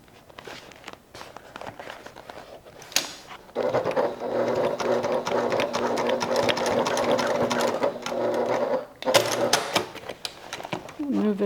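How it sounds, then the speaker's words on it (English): A sewing machine runs steadily for several seconds, putting a few holding stitches into a strap loop on a crossbody bag, with brief handling noise before and after and a short pause partway through. "I'm just going to do a couple of stitches to hold that in place."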